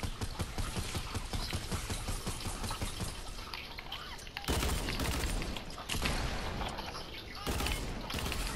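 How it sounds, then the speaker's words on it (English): Rapid bursts of gunfire in the Fortnite video game, dense volleys of shots crackling continuously and loudly, with brief louder blasts partway through and no talking. "I hear people shooting."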